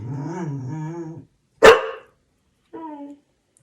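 A pet dog in a home kitchen lets out one sharp, close bark with a growly edge, followed by a shorter low grumble, between stretches of someone talking.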